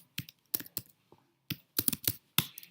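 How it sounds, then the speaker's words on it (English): Computer keyboard typing a shell script, short bursts of crisp key clicks in uneven clusters with brief pauses between them, close and alone. "let me write a script here, test.sh, and here I will type in that shebang"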